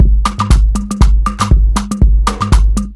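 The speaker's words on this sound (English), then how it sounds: "And then I added more shakers," Shakers added to a percussion beat with congas, a steady fast rhythm of crisp strikes and hand-drum hits looping over about three seconds, loud and upfront with no talking.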